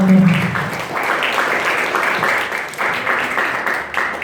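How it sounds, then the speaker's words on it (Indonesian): Audience applause at a university study-program anniversary event, broad steady clapping from a crowd that continues for several seconds with a low hum at the start. "Sekali lagi kasih tepuk tangan yang meriah untuk pembicara kita."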